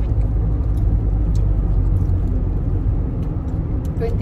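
A car being driven gives a steady, close engine and road rumble inside the cabin, with faint rattles and ticks above it and no break in the noise.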